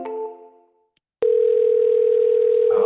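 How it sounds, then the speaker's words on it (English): A telephone tone on a call to an AI voice line: a brief harmonic tone fades to silence, then a loud, steady electronic tone holds without a break. "You should be able to hear it ringing."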